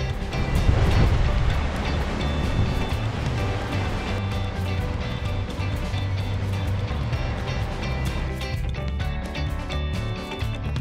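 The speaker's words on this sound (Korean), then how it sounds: "오늘 파도가 상당한데" Strong ocean waves surge at Marado island off Jeju, a dense, continuous roar of surf with no break, steady and loud throughout.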